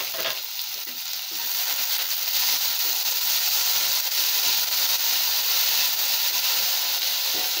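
Onion and tomato sauté in a hot pan for chow chow kootu, a loud, steady close-up hiss and sizzle with light stirring scrapes and no talking.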